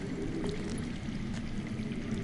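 Underground water flows steadily in a Telltale Game of Thrones scene, a soft, continuous pouring rush with no voices present.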